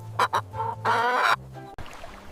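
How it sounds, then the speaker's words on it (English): A chicken clucks close by in a few quick bursts followed by a longer drawn-out call, clear and fairly loud with a brief pause between phrases. "This is a chicken."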